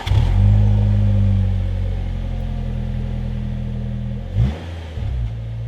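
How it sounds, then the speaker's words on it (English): A Nissan Primera P12 engine runs loud and close, with a rising rev at the start settling into a steady, deep drone, then a brief throttle blip before it drops back to idle. "start the car, let it warm up for a few minutes, then rev the engine"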